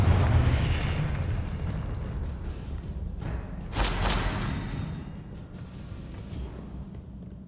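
A Confringo spell explosion in the Hogwarts Legacy video game bursts with a deep booming blast at the start, then a second sharp burst follows and rumbles fade out, loud and close.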